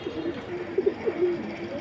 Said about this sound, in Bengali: এটা সিলভার রাব্বানি পাখি কবুতর।